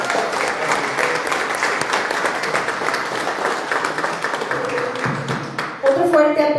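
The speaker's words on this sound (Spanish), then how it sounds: "Otro fuerte aplauso, por favor" A conference audience gives sustained, dense applause after a talk, steady clapping throughout before a voice comes in on a microphone at the end.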